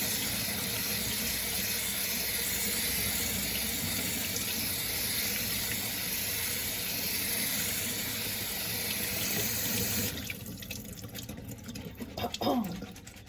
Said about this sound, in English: And we're just going to give them a rinse.